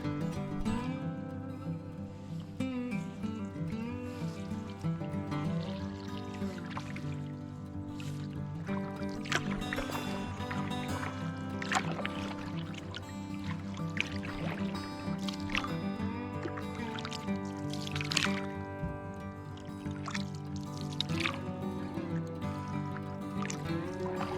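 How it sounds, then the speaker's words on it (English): Gentle water trickles and gurgles around a solo canoe on Lower Saranac Lake in the Adirondacks in late spring as a paddle dips rhythmically, with soft drips over a steady ambient background. "got this thing set up for solo paddling, and I'm making my way back out onto the main lake"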